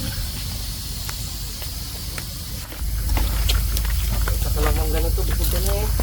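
A cooking pot comes to a boil outdoors, a steady hiss and bubbling that grows louder partway through, with faint voices and chirping birds in the background.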